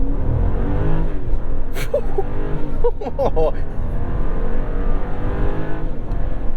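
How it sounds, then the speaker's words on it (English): A 2022 Jeep Grand Wagoneer launching from a standstill at aerodynamic ride height, engine and road roar steady and loud throughout, while a voice gasps and exclaims midway. "let's see how much it'll let me do a launch"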